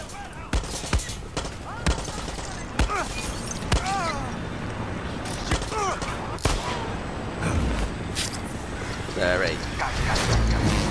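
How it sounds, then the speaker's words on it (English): Gunfire from a gun in Far Cry 6, with loud single shots cracking out at roughly one-second intervals over dense background game noise and ringing tones. "I shot that guy through that tank"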